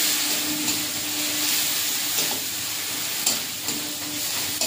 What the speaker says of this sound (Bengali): অল্প একটু লঙ্কার গুঁড়ো দিয়ে মশলাটা ভালো করে কষে নেব